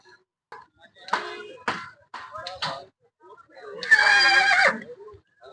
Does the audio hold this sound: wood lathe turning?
no